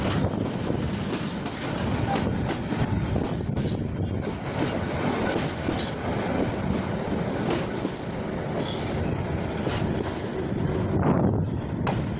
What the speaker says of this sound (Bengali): গাজীপুর থেকে ঢাকা বাই ট্রেন